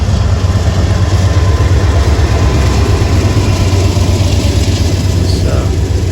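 A CSX freight train with a caboose rolls past near an underpass. A heavy, constant low engine rumble with steady rail noise fills the clip, loud and unbroken throughout.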